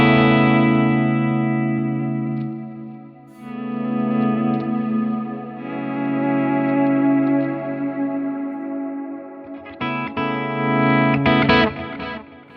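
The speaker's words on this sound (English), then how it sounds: "So that's my clean to my pad sound." An electric guitar through a Fractal FM9 shifts from a clean tone to a lush pad scene, with chords ringing out and swelling in chorus and echo before a few sharper strums near the end.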